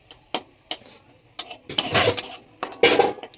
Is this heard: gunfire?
no